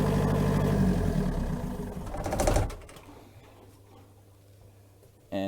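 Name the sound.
boat's port engine idling in the engine room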